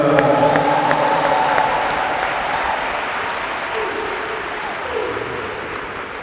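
A Catholic congregation at a diocesan women's day in Abidjan bursts into loud, sustained applause that fills the hall, gradually fading over several seconds while voices talk over it.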